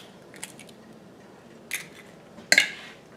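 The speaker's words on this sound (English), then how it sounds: "I'm going to break my eggs." Fresh backyard country eggs being cracked into a bowl while making zucchini fritters: three sharp, close taps and cracks spread over a few seconds, the last one loudest, against a quiet kitchen.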